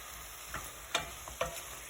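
Potatoes go into a frying meatball tajine, making a quiet steady sizzle broken by a few soft clacks and stirring knocks.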